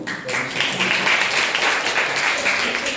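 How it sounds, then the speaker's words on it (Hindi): Loud, sustained applause from a church congregation at the close of a Sunday morning service, steady clapping filling the room throughout with a few voices mixed in. "जोरदार एक ताली बजाइए।"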